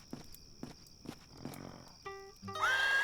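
A draft horse in the video game The Dark Eye: Chains of Satinav gives a few clopping hoof steps, then breaks into a loud, bright whinny that rises at the end, heard alone without speech.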